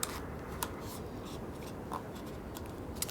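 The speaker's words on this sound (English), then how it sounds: "And then I will tape the top of it." Paper cone being taped, with soft rustling of paper and tape handled close by, steady low scratching punctuated by a few sharper crinkles and clicks, no talking.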